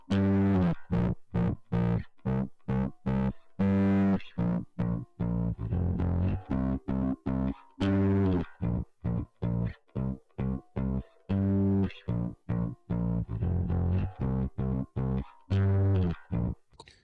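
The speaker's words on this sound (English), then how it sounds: "I want to push into the distortion and make it sound worse." Heavy tube saturation distortion from a Waves plugin pushed hard on a music track, a loud, crunchy, gritty sound in choppy bursts with brief gaps, played alone without talk.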